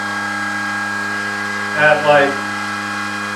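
A small Arduino-controlled dual-pole motor with new rotors spins near 6,000 RPM, making a steady tonal whine and hum throughout, with someone briefly talking over it.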